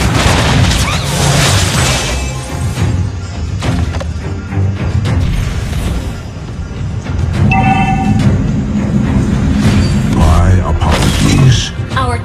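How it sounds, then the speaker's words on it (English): Explosions and smashing impacts as a turret is destroyed in Mobile Legends, with Claude in gold lane, set amid a dense, loud mix of game effects, music and announcer-style voices. "Your team destroyed a turret."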